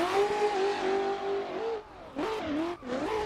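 A BMW M4 widebody drift car's engine revs loudly and near, a sustained high note that drops, then snaps back up in two sharp rises, alone without talk.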